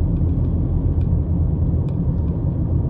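A car engine on a driving test route in Alvaston, with the driver shifting down a gear: a loud, steady low in-cabin rumble with no clearly audible rev change and no talking.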